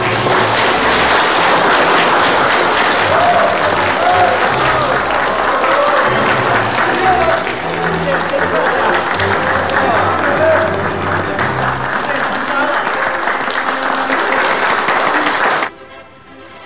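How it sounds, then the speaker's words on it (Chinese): Loud, sustained wedding audience applause filling a banquet hall as the couple walks in, dense clapping with crowd noise and music underneath, cutting off abruptly near the end. "让我们响起最热烈的祝福的掌声"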